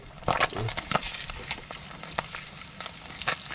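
Fish crackles and sizzles in hot oil, a dense spitting hiss with sharp pops scattered throughout, close and fairly loud.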